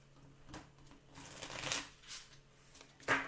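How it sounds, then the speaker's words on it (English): Tarot cards are being shuffled by hand, a few soft riffling and flicking bursts with brief pauses between them, quiet and close. "One more good shuffle."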